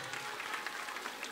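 Audience applauding at a primary-school cultural days opening ceremony, greeting the school government president with steady, faint, distant clapping that lasts just over a second.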